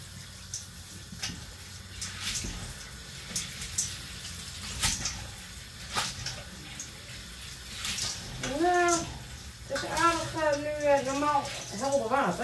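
Tap water runs and splashes while something is rinsed under it in a home kitchen, with a steady rush broken by clunks and gurgles, and a voice talks over the water.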